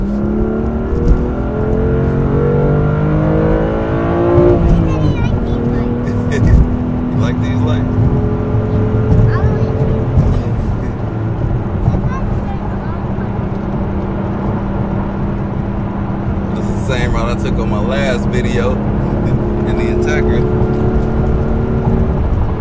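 A BMW M2 Competition accelerates hard from inside the cabin, its engine note climbing through gear changes in repeated rising sweeps while people talk over the loud, steady drone.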